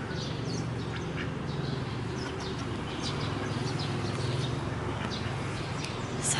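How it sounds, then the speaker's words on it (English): Ducks in a bird pen quack intermittently at a distance over a low steady background hum, scattered calls without a regular rhythm. "ducks."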